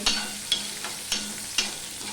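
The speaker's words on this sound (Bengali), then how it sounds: "এবার পেঁয়াজটাকে আমি ভেজে নেব" Onions frying in a pan give a steady hiss, broken by regular scraping taps of a spatula about every half second, fairly close and with no talking.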